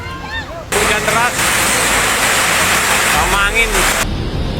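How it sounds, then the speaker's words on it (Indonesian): Heavy rain driven by strong wind in Bali during a storm, a loud, broad roaring wash that begins abruptly and holds steady, with a person speaking over it at times. "Hujan deras"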